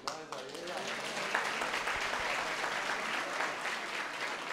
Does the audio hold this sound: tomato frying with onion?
no